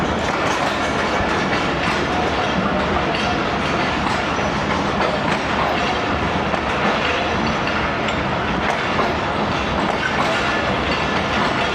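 The 13UP Awam Express, a Pakistani passenger train between Lahore and Peshawar, running on rails as a loud continuous rumble and roar of wheels, steady and close throughout.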